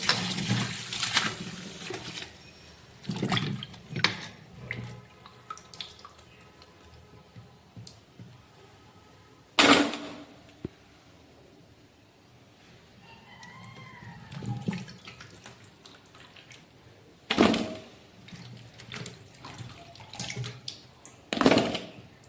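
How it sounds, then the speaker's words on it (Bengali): Potatoes and pumpkin are washed with water in a kitchen, with intermittent splashing, sloshing and handling noises, occasional louder clattering bursts, and a faint tap trickle running beneath; no one talks. "আলু কুমড়ো ধুয়ে নেব আবারও জল দিয়ে একবার আমি ধুয়ে নিয়েছি"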